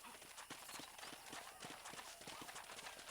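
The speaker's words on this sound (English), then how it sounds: "Control that horse, will ya?" Faint, steady clip-clop of horse hooves trotting in Red Dead Redemption, a quick, even rhythm of soft knocks.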